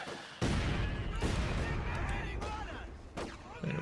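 Company of Heroes 2 combat: heavy impacts and gunfire hit in several sharp bursts over a dense battle din, with booming strikes recurring every second or so.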